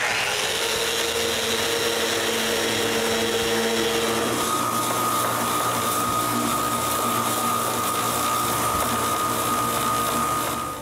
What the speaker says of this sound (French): je peux finir le sablage de tous les autres cabarets.